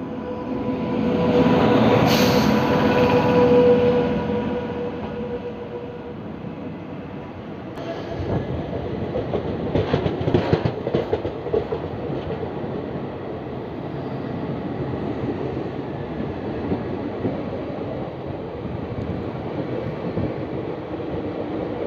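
The Garib Nawaz Express rumbles steadily toward Bareilly Junction, with a loud, continuous roar of wheels and carriages and rhythmic clatter from the tracks. It is heard from onboard, briefly louder near the start.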